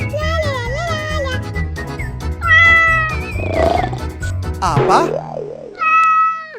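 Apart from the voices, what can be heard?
cat meowing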